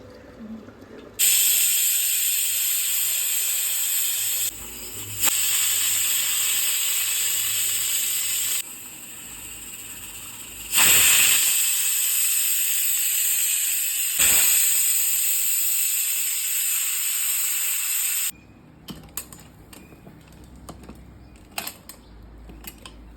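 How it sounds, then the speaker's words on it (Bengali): A pressure cooker cooking goat meat lets out loud, steady steam hisses in several long whistles separated by sudden cutoffs and quiet pauses, with faint kitchen clatter in the gaps. "প্রেসার কুকারের ঢাকনাটা লাগিয়ে দিয়ে 3 থেকে 4টা সিটি হলে তারপর নামিয়ে নেব।"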